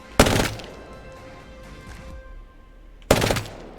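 Two short loud bursts of SMG fire from the Burst Prowler in Apex Legends, one at the start and another near the end, with a quieter lull between.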